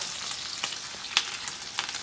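Bacon sizzles and crackles in a pan, a steady hiss broken by sharp pops at irregular moments, moderately close and with no voices over it.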